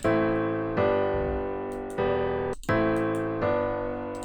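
Sustained deep house synth chords over a low bass note, changing every second or so, with each new chord striking cleanly and slowly fading.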